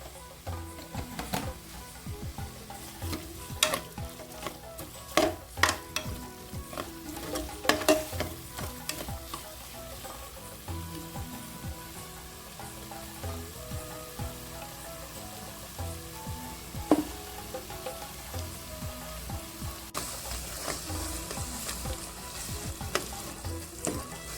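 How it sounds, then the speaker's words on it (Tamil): Chopped tomatoes sauté in a pan with a green chilli and a little salt for mushroom biryani, giving a steady close sizzle with frequent scraping stirs and no talking. "இந்த அளவுக்கு வதங்கிக்கணும் தக்காளி"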